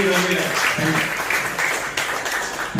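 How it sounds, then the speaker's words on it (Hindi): Audience applause after a birthday speech, a sustained wash of clapping from a room full of people with voices talking over it. "जोरदार ताली हो जाए।"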